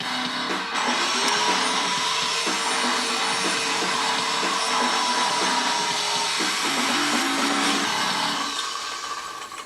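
A power saw whines and grinds loudly and steadily for several seconds, cutting through a plastic hair dryer, then winds down at the end.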